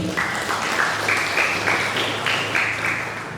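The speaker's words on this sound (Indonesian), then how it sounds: "Luar biasa, beri tepuk tangan." Sustained audience applause at an anniversary celebration of a Buddhist vihara, a dense steady wash of many hands clapping throughout, moderately loud and fairly close.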